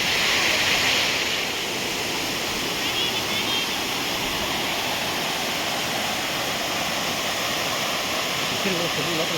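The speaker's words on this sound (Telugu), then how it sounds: "అక్కడ నుంచి ఈ వాటర్ వచ్చేసి టోటల్గా పాతాల గంగలోకి అయితే వెళ్ళిపోతున్నాయి" Hidden waterfall at Srisailam pouring down toward Patala Ganga, a loud, constant rushing roar of falling water filling the whole stretch, close by.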